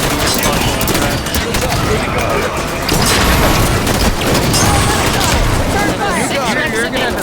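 Rapid gunfire and booming blasts from a PlayStation shooting video game fill the whole stretch loudly and continuously, with voices talking over the dense, crackling barrage.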